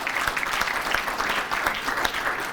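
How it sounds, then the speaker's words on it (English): A crowd at a Saginaw County Sports Hall of Fame induction claps hands in scattered, sparse applause, moderately loud with distinct individual claps, no talk. "clap your hands if you don't mind."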